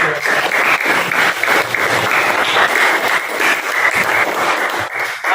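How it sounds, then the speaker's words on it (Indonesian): Sustained applause from a group in a classroom, steady and dense clapping throughout with no pauses, filling the space at close range. "Kalau itu kita berikan aplaus kepada kelompok 1"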